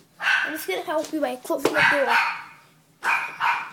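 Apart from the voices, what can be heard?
dog barking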